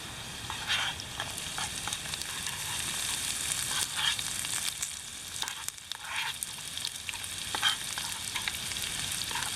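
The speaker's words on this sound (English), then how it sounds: "So I'm going to take and dump the onions in there." Onions sizzling steadily in a pan over a camp stove on a trail outing, a continuous crackling hiss with occasional brief stirring or scraping sounds, fairly quiet and close with no talking.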